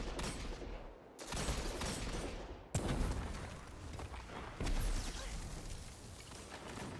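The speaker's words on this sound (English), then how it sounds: "Please don't tell me you got the machine gun." Dense, sustained machine gun fire from a first-person competitive video game, loud bursts of rapid shots cutting in and out over several seconds, with no voices.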